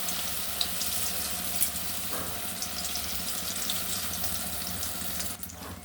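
Chola motor dal batter for dhoka frying in white oil, a continuous close hissing sizzle holding steady for several seconds with no talk, fading briefly near the end.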